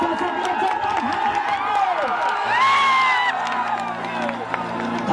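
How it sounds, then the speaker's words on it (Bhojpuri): Crowd at a stage show cheers, whoops and claps for an honoured guest, a dense, loud roar of many voices with a rising swell of shouts midway and amplified music tones underneath. "तो मैं चाहता हूं कि जोरदार ताली बाजे हमारे चाचा के लिए।"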